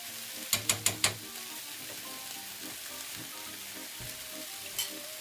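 Endives cook in a hot dry pan with vinegar and no fat, giving a soft steady sizzle that opens with four quick sharp knocks, then a couple of faint later taps.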